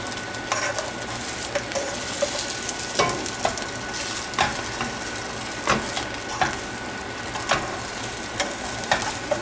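An omelet sizzles in a frying pan, a steady close hiss broken by regular scraping clicks from a utensil, with no one speaking.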